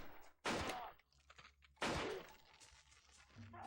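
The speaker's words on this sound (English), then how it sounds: "All the gunfire." Gunfire in the SSX3 snowboarding video game, two loud, sharp bursts about a second apart with quieter game noise in between, and no talking.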